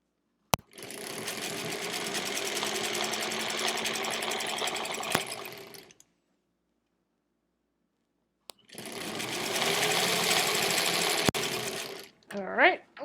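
A sewing machine stitches quilt-as-you-go quilt blocks in two sustained runs separated by a pause of silence, and a short burst of voice follows at the end.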